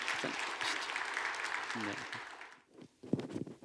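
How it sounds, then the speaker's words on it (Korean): A church congregation applauds to welcome a speaker to the front during a Sunday service, a soft wash of clapping under a spoken voice that fades out before the talk continues. "우리 박수로 한번 환영하도록 하겠습니다"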